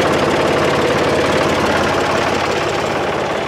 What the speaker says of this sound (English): Let's get the PTO going and see how this worked out.